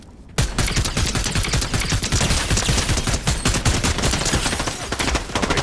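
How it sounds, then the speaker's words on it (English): A twin mag gun fires at bots in a video game, with dense, rapid bursts of gunfire hammering almost continuously and loudly after a short quiet start. "This twin mag green just destroyed those bots."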